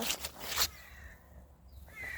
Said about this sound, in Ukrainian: Чуєте? Там ворони здається.